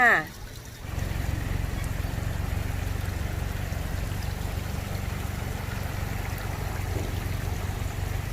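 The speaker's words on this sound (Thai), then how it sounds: "ร้านนี้ก็จะเป็นร้านขายน้ำตกนะคะ น้ำตกเล็กๆ เพื่อไปจัดสวนหย่อมนะคะ" Small decorative garden waterfalls on display at an ornamental plant and flower market in Nakhon Nayok, Thailand, giving a steady, close rush of splashing, trickling water that runs unbroken after a brief quieter moment at the start.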